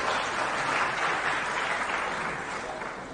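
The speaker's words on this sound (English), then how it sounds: "I think you deserve a round of applause." Applause from the audience at a university speech in Ghana, a sustained, even wash of clapping that fades slightly toward the end, with no voices over it.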